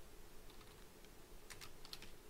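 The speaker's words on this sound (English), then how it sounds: "So I'm going to type this in here." Soft typing on a computer keyboard while entering a check in QuickBooks accounting software, a few faint scattered keystrokes over a quiet, hissy room background.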